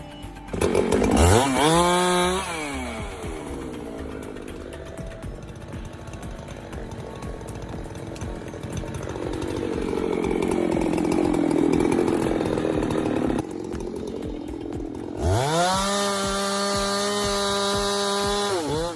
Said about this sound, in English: Modern loggers use high-powered chainsaws, hydraulic tools, and mechanical felling systems that clamp onto a tree